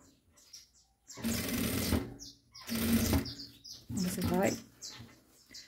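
A sewing machine stitches bias binding onto a children's shorts waistband in three loud bursts of rapid whirring separated by pauses, with faint high chirps in the background.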